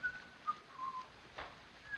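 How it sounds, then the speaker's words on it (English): Soft, breathy whistling in short melodic notes from a 1930s film, a few separate phrases over a quiet background with faint room noise. "Oh, do stop whistling."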